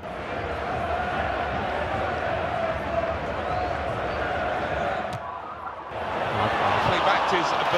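A stadium crowd in a football video game roars steadily, then swells louder in a burst of cheering near the end, with commentary voices mixed in.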